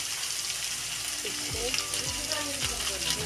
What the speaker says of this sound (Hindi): मटन मसला को पकईदेवा